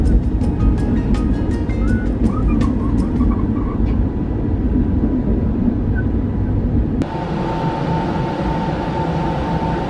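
An overnight sleeper train in Thailand rumbles along steadily with a loud low roar and rattling, clicking rail sounds early on, then the tone shifts to a smoother hum.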